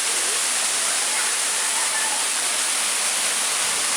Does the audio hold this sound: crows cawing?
no